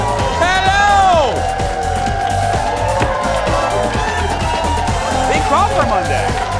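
A live audience cheers, whoops and claps loudly, with rising shouted whoops and a continuous roar of voices filling the room.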